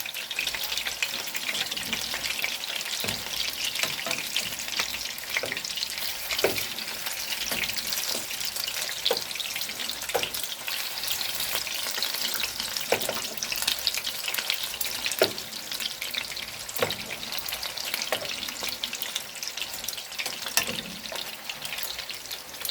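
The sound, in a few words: meatballs frying in a pan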